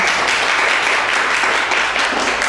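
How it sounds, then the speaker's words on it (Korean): Congregation applauding during a Korean church Sunday service, a steady, dense wash of clapping filling the whole stretch at an even level with no clear break. "우리 다시 한번 주님께 큰 감사와 영광의 박수를 올려드릴까요?"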